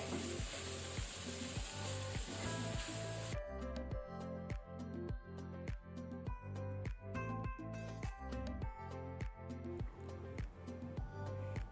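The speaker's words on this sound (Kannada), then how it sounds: "ಈಗ ಹೈ ಫ್ಲೇಮಲ್ಲಿ ಇದನ್ನು 1 ಮಿನಿಟ್ ಈ ರೀತಿ ಫ್ರೈ ಮಾಡ್ಕೊಳ್ಳಿ." Capsicum fries on high flame in a pan with a bright hiss that is loudest at first, then continues under prominent rhythmic background music.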